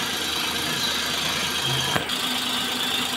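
Hyundai Eon car engine running just after restarting from a discharged battery, following two weeks unused; a steady near idle hum with one brief click.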